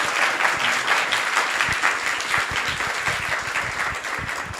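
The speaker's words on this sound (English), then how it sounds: "let's give him a round of applause for that" A crowd applauds steadily for nearly five seconds during a Vaisesika Maharaja's Vyasa Puja celebration, with dense, continuous clapping that sounds fairly close and holds an even level throughout.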